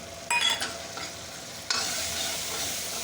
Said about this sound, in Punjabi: ਹੁਣ ਇਹਨੂੰ ਆਪਾਂ ਮਸਾਲੇ ਨੂੰ ਭੁੰਨਾਂਗੇ ਚੰਗੀ ਤਰ੍ਹਾਂ